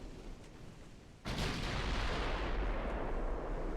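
Naval gunfire and shell hits in the warship game Ultimate Admiral Dreadnoughts: after a quieter stretch, a sudden heavy blast opens into a loud, sustained roaring rumble of cannon fire that fills the rest of the moment.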